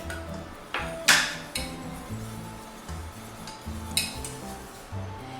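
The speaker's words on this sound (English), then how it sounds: "I'm going to use the whisk." A metal whisk working through milk in a pot for a sweet potato lasagna sauce, with sharp clinks against the pan and steady scraping stirring strokes, close and alone.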